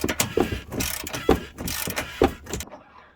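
A wrench ratchets repeatedly while a nut is tightened on the front upper control arm of a 2006 Ford Explorer, the rhythmic clicking strokes close and loud against metallic workshop noise, ending abruptly.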